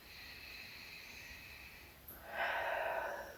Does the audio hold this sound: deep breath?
yes